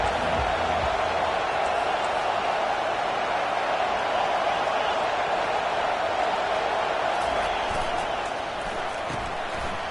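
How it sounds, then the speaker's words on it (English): A packed stadium crowd roars at an Oregon vs Michigan college football game, a loud, continuous wall of cheering that holds steady throughout and fills the whole space. "This crowd bringing an ear-splitting welcome to their visitors."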